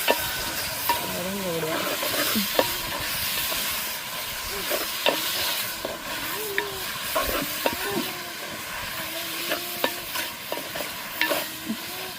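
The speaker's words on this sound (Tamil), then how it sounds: "இதுக்கு என்ன சேர்ப்போம் சொன்னால் நாங்கள் வந்து தக்காளி பழத்தை சேர்ப்போம் நல்லா வந்து வதங்கி" Onions and tomatoes sauté in a pan for tomato rice, giving a soft continuous sizzle with frequent spoon scrapes and stirring clicks. Faint tonal sounds drift in the background.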